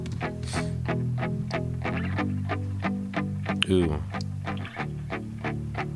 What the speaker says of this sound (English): It's a spring reverb. You can hear the drip.